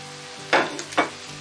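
Sliced white onion goes into a hot stir fry pan for a grouse dish. Two short, close bursts of sizzling sound over a low background hum, with no talking.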